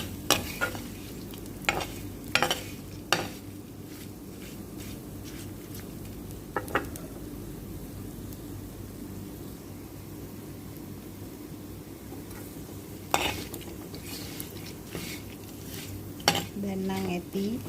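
Meat fried slowly over very low heat in a Sri Lankan-style wok (thachchi), with repeated sharp scrapes and clinks of a spoon stirring and turning the pieces over a steady low sizzle.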